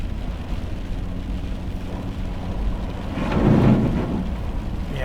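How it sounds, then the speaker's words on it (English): Heavy rain pours steadily on a car during a drive, a dense continuous hiss with low rumbling that swells louder for a moment partway through, with no talk. "it's raining pretty hard"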